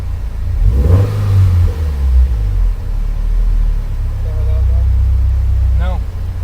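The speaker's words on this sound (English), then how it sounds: "you'll have audible indication where you hear it popping and making noise like it is right now" Tuned, built 2.5-litre Subaru Bugeye engine idling with a steady loud rumble, a rev rising and falling early on, and irregular pops and crackles, with a voice talking over it.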